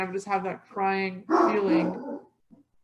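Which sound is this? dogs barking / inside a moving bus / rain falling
dogs barking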